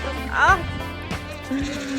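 On a farm with cows and sheep, a lamb gives one short, wavering, hoarse bleat, fairly close. A second low call follows later, with people talking around it.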